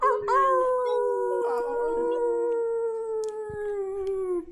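Human voices on a Zoom call imitate wolf howls during a full moon meditation, several overlapping drawn-out howls with rising then slowly falling pitch, sustained loudly for several seconds.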